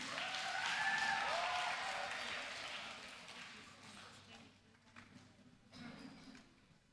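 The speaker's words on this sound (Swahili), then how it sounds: "Tumpigie makofi tena." A crowd at a Sunday school conference breaks into applause that starts full and dense, then thins and fades over several seconds, with scattered claps trailing off and a murmur of voices beneath.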